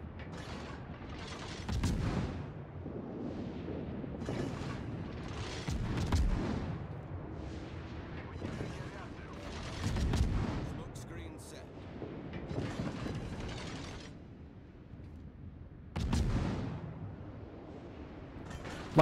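Main guns of the US destroyer Farragut fire in World of Warships, heavy booming salvos recurring every few seconds with rumbling tails, under steady narration.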